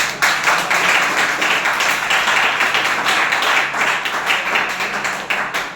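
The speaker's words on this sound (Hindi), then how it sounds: "जोरदार तालियां" Loud applause fills a room, a dense, continuous wash of close clapping that holds steady throughout and eases slightly at the end.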